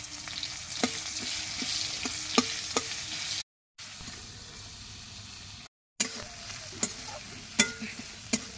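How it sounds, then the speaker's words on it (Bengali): Onions fry in hot oil in a wok with a close, steady sizzle, while a spatula scrapes and taps the pan in a loose rhythm. Two short silent gaps cut into the sound. "তেল গরম হয়ে গেছে, এর মধ্যে পেঁয়াজ দিয়ে দেবো।"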